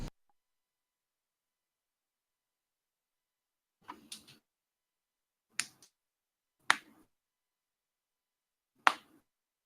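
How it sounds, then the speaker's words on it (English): Knuckles crack in a quiet room: five short, sharp pops spaced a second or two apart, close and isolated against near silence. "That's my knuckles cracking."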